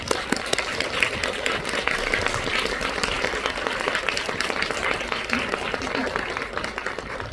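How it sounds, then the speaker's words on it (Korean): At a Busan International Film Festival screening, a cinema audience claps to welcome actor Yagira Yuya, a loud, continuous burst of many hands filling the room for several seconds. "박수 부탁드립니다"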